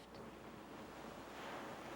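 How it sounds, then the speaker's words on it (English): Ocean waves wash steadily as soft background ambience during a relaxation session, a faint continuous broadband surf rush with no distinct breaks. "if you can hear the ocean in the background as our background music"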